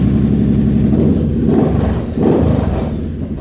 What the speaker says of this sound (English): I got a nice bobber sound out of it.